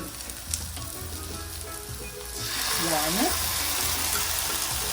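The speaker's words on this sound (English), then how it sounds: "So to this I'm just gonna add a bit of tomato sauce." Tomato sauce hits a hot pot of stewed fish and sets off a louder steady sizzle that swells midway and carries on for several seconds, with faint kitchen noise before it.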